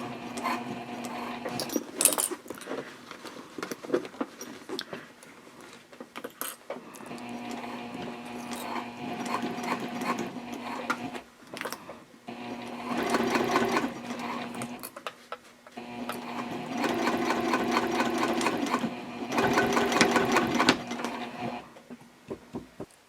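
A sewing machine stitches a Hannah Sling seam in bursts of rapid mechanical chatter separated by brief pauses, with light handling clicks between runs, close and fairly quiet.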